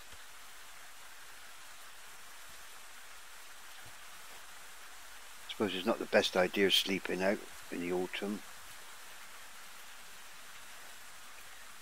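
Steady rain falls in the medieval survival game Medieval Dynasty, a constant soft hiss of drops running through the whole stretch, with someone talking over it partway through.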